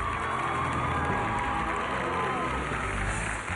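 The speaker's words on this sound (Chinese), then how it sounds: "大家为你鼓掌" Studio audience on a Chinese dating show applauding and cheering, a dense, steady wash of clapping and crowd noise that holds at full level for a few seconds.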